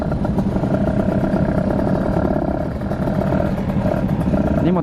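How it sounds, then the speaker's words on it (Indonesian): A Kawasaki Ninja RR motorcycle engine with new rims runs steadily and loud throughout, a close, rumbling mechanical drone with a few faint voices underneath. "Ini motor kenceng ini nih"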